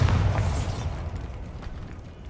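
In Hogwarts Legacy, a Bombarda spell sets off an explosion: a loud, close, low boom that rumbles and fades over about two seconds, with a faint rattle of debris as it dies away.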